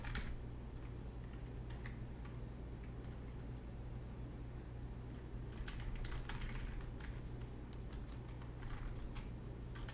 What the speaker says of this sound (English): So just give me a moment to type this out.